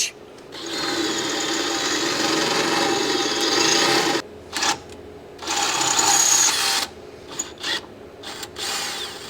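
A power drill boring into a Jeep Wrangler fuel tank during a Duramax diesel swap, running in long steady whirring bursts broken by short pauses and brief restarts, close and loud.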